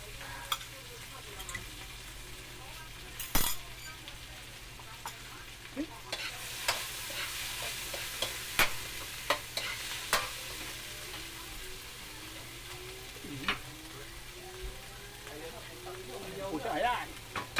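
Smashed tofu sizzling and being stirred in a frying pan, a steady faint sizzle broken by sharp scraping clicks of a utensil against the pan, with some talk underneath.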